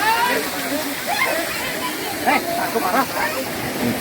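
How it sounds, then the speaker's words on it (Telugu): Water pours steadily from a stone carving at an ancient temple, a continuous splashing rush under a person talking. "కాళీమాత గజానాలు నుండి మనకి నీళ్ళు బయటకు అయితే వస్తున్నాయి"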